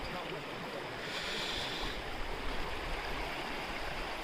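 A clear river flowing over stones at a picnic spot near the Indo-Bhutan border, heard as a constant broadband rush and gurgle, moderately distant and even throughout, with no voices.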